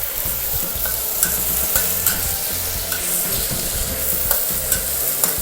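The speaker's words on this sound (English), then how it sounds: "And then what I'm going to do is sear the prawns. Fire up the heat now." Prawns searing in a hot pan with garlic, a loud continuous sizzle and crackle with occasional scraping stirs, close up and without talk.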